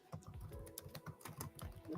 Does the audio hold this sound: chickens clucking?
no